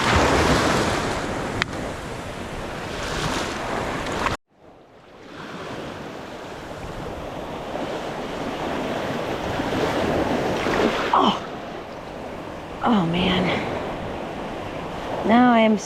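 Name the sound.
ocean waves breaking on the beach at Pass-a-Grille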